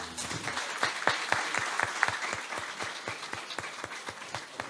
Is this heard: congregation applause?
yes